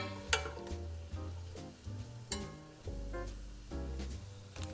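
Bacon fries quietly in a pot for beer cheddar soup, a faint sizzle with soft irregular pops and stirring knocks.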